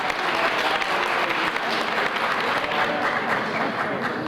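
An audience claps warmly for a young tabla player named Rupak at a poetry book launch gathering, a close, full burst of steady applause lasting several seconds.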